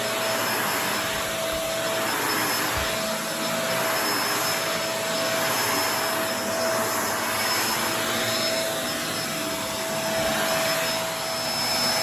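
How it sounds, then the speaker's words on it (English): A Kenmore DU2015 bagless upright vacuum cleaner runs continuously at a steady loud whine and roar, close by, with no voices. "this is a bulky vacuum cleaner"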